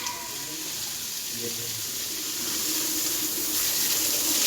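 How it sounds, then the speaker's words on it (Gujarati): A pressurised water spray hisses steadily while washing mud off in a flood-damaged home, growing slightly louder, with faint voices murmuring underneath. "પાણીનું પ્રેશર મારી દઈ ને એટલે આમ ઈઝી પડે ધોવામાં."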